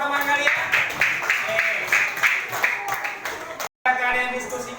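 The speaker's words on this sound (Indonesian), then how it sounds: "Kasih tepuk tangan buat teman kalian" Students in a classroom clap for classmates after a project presentation, a dense spread of hand claps running throughout with voices talking over it and a brief break near the end.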